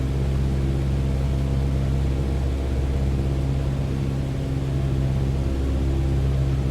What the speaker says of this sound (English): You can tell by the sound of the engine.